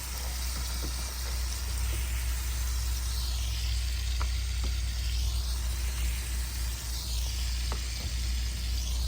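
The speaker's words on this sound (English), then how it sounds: "let the hamburger meat brown a little bit more" Hamburger meat sizzles and browns in a pan on a camping stove for a stir fry, a steady close hiss with a few small pops and scrapes and no voices.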